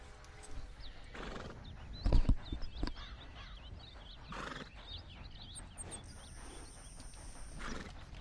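Horse galloping in Red Dead Redemption 2, steady clip-clop of hooves with tack rattling and a loud snort or whinny partway through, played over faint ambient outdoor sound.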